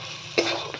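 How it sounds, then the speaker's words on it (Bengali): Potatoes tossed with spices in a hot kadai-style wok give a short scrape of stirring over a soft sizzle, with a sharper clatter near the middle. "আলুগুলোর সঙ্গে মশলা ভালো করে মাখিয়ে নেবো"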